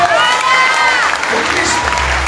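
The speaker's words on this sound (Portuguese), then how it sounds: "Aplauda Jesus!" Church congregation applauding during a Portuguese-language sermon, a broad wash of clapping and crowd noise with some voices and cheering blended in, loud and sustained.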